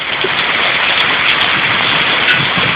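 Heavy, gusty rain pours steadily after a hailstorm during thunderstorms in Ozimek, Poland, a loud, dense, continuous hiss of water close by with no voices.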